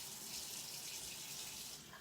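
A kitchen tap running warm water for baking focaccia dough: a faint, steady hiss of flowing water for two seconds, with no talking.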